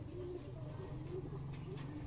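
A racing pigeon that has just flown a sprint race coos softly in low, repeated murmurs, with a person talking quietly nearby.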